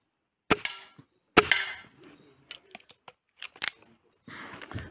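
Gamo Maxxim IGT .177 nitro piston air rifle firing, two sharp, close cracks followed by smaller clicks and handling noises of the magazine and rifle, with a brief rustle at the end.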